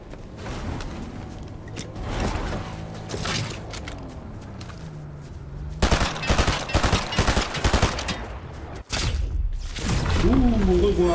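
Rapid bursts of gunfire crackle in a battle royale match, with a dense run of loud shots in the second half and scattered firing earlier, under occasional talk.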